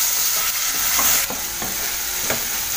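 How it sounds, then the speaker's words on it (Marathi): Onion and tomato sauté in a hot pan with spices, giving a steady close sizzle. A utensil stirs and scrapes through the mixture several times. "कांदा टोमॅटो परतून झाला ना"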